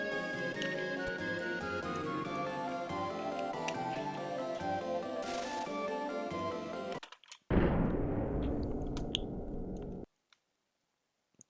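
Cannon launch in the Super Nintendo game Secret of Mana: a dense run of clicking, crackling game sound effects at steady loudness, then a brief gap and a louder burst that cuts to near silence.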